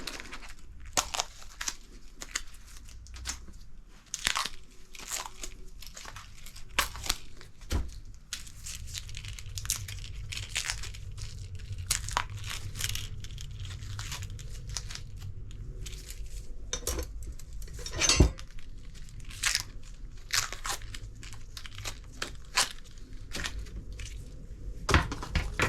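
Adhesive tape peeled and crumpled off a newly made metal brake line, giving repeated close crinkling and tearing bursts with occasional light metallic clinks, steady and alone throughout.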